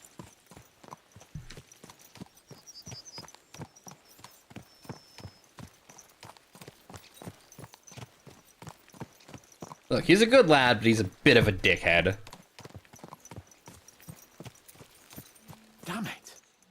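Horses gallop in Kingdom Come Deliverance 2, a steady rapid hoof clip-clop running throughout, with a loud burst of rider speech midway and a brief snort near the end.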